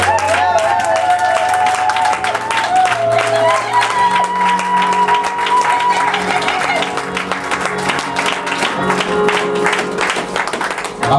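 A church congregation cheering and applauding the Lord during a French-language service: sustained clapping and crowd noise over loud worship music with a steady bass line and bright melodic tones.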